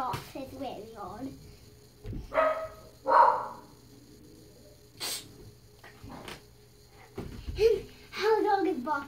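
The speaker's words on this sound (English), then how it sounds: "If you hear the dog barking," A dog barks in a few sharp bursts at moderate distance, with quieter sounds and movement in between.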